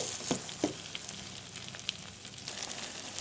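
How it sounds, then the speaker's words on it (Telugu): Masala paste frying in oil for a stuffed eggplant curry gives a soft, steady sizzle with a few sharper crackles early on, close and fairly quiet, with no voices. "మసాలా పేస్ట్ ఇందులో యాడ్ చేసుకొని ఫ్రై చేసుకోవాలి"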